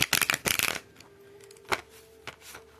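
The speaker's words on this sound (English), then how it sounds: "we're going to go ahead and pull a few tarot cards for you at this time" Tarot cards shuffled in a quick riffling burst, close and crisp, followed by a couple of soft flicks as cards are pulled against a faint steady hum.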